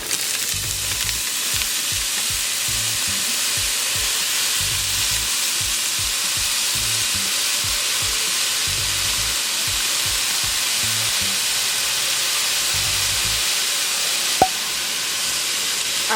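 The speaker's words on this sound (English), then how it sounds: "now we're going to add our frozen broccoli. And I'm just going to let the broccoli steam." Frozen broccoli sizzling and steaming in a hot pan with beef for Chinese beef and broccoli: a loud, steady frying hiss runs throughout, with soft, regular stirring strokes underneath and one sharp click near the end, with no talking.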